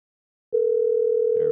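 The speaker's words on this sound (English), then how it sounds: "Well, let's give Nick a call" A steady single phone tone sounds as an outgoing call connects, holding one pitch for about a second before other noise enters at the end.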